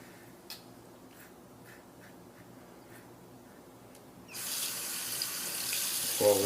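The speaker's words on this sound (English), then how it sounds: "We'll rinse it off" Tap water runs into a sink to rinse a Merkur safety razor, the stream switching on partway through and hissing steadily and fairly close, with a brief clink near the end; faint scraping taps come before it.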